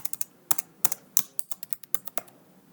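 Rapid computer keyboard key presses, copy and paste shortcuts, land as a dozen or so crisp, close clicks in an uneven rhythm with short pauses between bursts.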